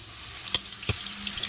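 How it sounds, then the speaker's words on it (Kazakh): Pieces of chak-chak dough fry in hot oil, bubbling and sizzling close by with a couple of sharp splashy bursts as pieces drop in. "Қызып тұрған майға аз-аздан сала отырып, сарғайғанша барлығын қуырып аламыз."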